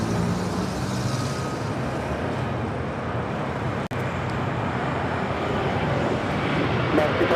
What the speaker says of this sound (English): This is American Airlines 1006 taking off to Chicago O'Hare on a 737-800